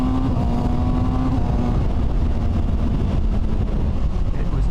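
A motorcycle filmed from the rider's seat accelerates to overtake, a loud close engine roar climbing in pitch under heavy wind buffeting, with no talking.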